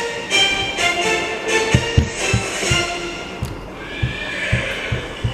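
Horse whinnying outdoors in a chilly desert setting, a drawn-out neigh over steady hoof clip-clops, moderately loud and close with a little background noise.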